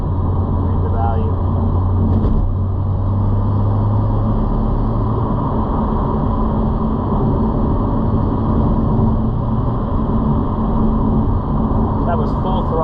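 Inside the cabin of a BMW M2 with a Valvetronic Designs exhaust at full throttle, a loud sustained droning engine roar that climbs and holds steady, with someone talking over it.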